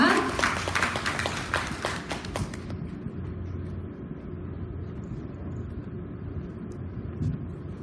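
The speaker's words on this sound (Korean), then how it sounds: "큰 박수로 환영해 주시기 바랍니다" An audience at a real estate project briefing for Suseong Midas Central Tower claps to welcome a speaker; dense applause fills the first few seconds, then fades to a quiet room hum.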